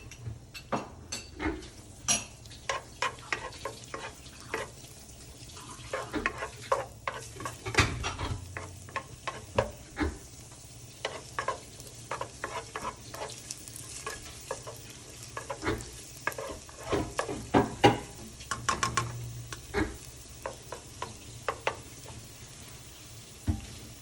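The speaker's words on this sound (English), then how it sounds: "Now we're going in with some garlic and some crushed minced ginger. And let that toast just a little bit." Garlic and crushed minced ginger toast in a hot pan for orange chicken, giving a steady close sizzle broken by frequent metal utensil scrapes and clinks against the pan, with no talking.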